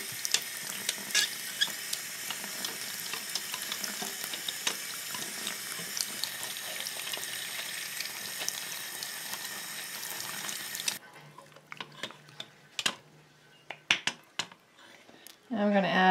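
Running tap water pours steadily over a doll's hair being washed, a continuous close hiss for most of the stretch, then the flow stops, leaving quieter drips, squishes and handling sounds.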